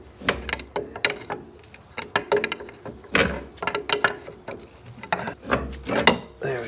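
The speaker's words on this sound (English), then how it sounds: "We'll pull this forward, and then we'll just get right in between here, pry down." A steel pry bar levers down on a front strut assembly of a 2002-2012 Jeep Liberty, giving a string of sharp metallic clicks, knocks and scrapes in irregular bursts, close and moderately loud with no talk.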